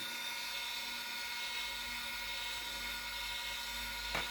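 A small electric motor in an automatic rifle-brass annealer hums steadily at a constant pitch, faint and continuous, with a brief click near the end.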